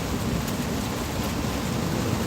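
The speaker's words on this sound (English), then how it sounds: "This rain is coming down hard." Heavy rain pours down steadily outdoors during a delivery run, a broad, constant hiss and low rumble with no breaks, moderately loud and with no one speaking.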